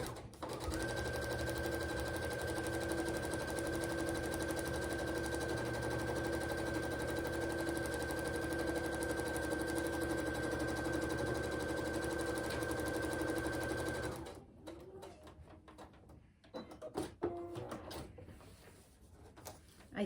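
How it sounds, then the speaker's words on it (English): Sewing machine stitching a row of a quilt block, a fast loud steady rattle of the needle running for about fourteen seconds before stopping abruptly, followed by faint handling clicks and rustles. "I'm gonna put the presser foot down and put the needle down"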